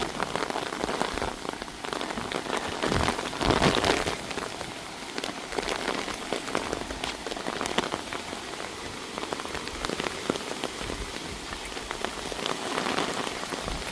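Steady rain falls outdoors, a dense continuous patter of drops on surfaces that holds at an even moderate level throughout with no talk.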